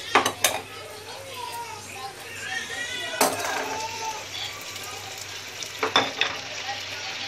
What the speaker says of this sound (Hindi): अभी दही डाल रही, और दही के साथ हम पूरे मसाले डाल के आपको बताएंगे।